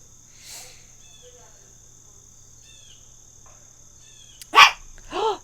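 A dog barks twice near the end, one loud sharp bark and then a softer second, over a faint steady drone of crickets and insects that runs through the quiet.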